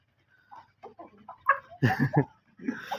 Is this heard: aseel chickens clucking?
yes